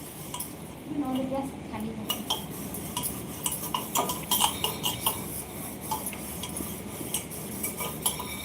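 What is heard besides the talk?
washing dishes and cleaning a pressure cooker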